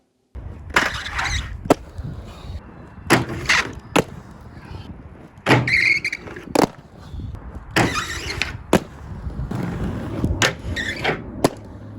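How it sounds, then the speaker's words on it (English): Inline skate wheels screech sharply against a grind surface from wheel bite, on Iqon ACT skates, in loud repeated bursts with short pauses between contacts. "Every time the wheels made contact with the grind surface, it sounded like something out of Fast and the Furious Tokyo Drift"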